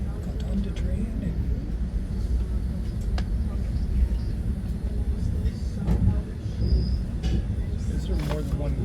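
Interior of a GO Train running from downtown Toronto to Newmarket, with a steady, continuous rolling rumble and occasional clanks while faint voices talk in the background throughout.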